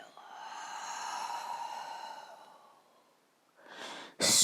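A long, breathy exhale during a relaxing yin yoga session, soft and close, followed by a short breath and then a louder burst at the end.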